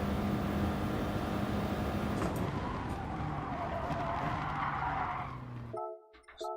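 Racing car tyres skid under late braking in GT Sport on the Le Mans circuit, a dense, loud engine and tyre roar that runs steadily for about five seconds before cutting off abruptly.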